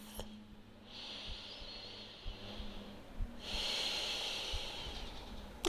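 Slow, deep breaths during a yoga stretch for the neck and upper back, two long airy inhales and exhales heard close and quiet in a still room.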